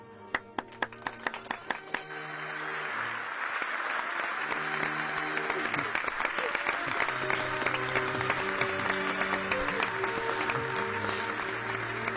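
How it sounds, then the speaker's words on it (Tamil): Applause in a Tamil TV drama scene: a few single claps open, then a crowd joins in with sustained, dense clapping that carries on to the end. "உங்களோட சேர்ந்து நானும் அவளுக்கு கைத்தட்டுறேன்"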